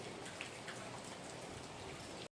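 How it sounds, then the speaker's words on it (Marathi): Rain falls steadily, with soft drops pattering on a surface. It is faint and distant, continues evenly, and then cuts off abruptly. There is no talking. "पाऊस चालू आहे इकडे पण."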